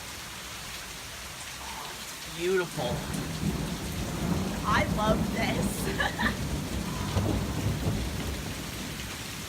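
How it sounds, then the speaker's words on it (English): Heavy rain pours down steadily with a sharp thunderclap and low rumbles, loud and close, while a person talks briefly over the storm. "And now it's like downpouring and lightning."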